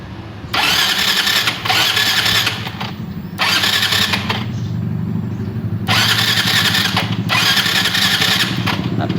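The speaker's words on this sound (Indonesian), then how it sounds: "Oke, sekarang kita tes starternya." A motorcycle engine being cranked with its starter during repair testing: loud, close bursts of starter whirring and engine turnover, repeated four or five times with short gaps between them, with no voices.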